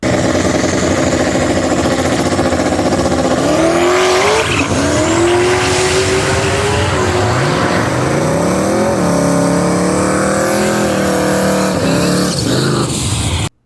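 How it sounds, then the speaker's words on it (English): Single turbo LS drag racing car launching on an eighth-mile strip, a loud roaring engine with rising revs, sharp gear changes and tire squeal, sustained and close throughout. "Up next is 2018's champion David Meyer in his single turbo LS combo."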